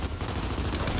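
Rapid gunfire from the Gears 5 video game, a dense, loud burst of continuous shots filling the whole second without pause.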